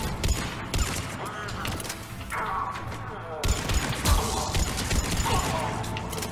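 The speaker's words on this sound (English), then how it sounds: "Nice artillery fire from the Biotic Kids." Biotic artillery fire pounds a Mass Effect 3 battlefield, heavy repeated impacts and crashes rolling over each other at a steady moderate level, with a voice talking underneath.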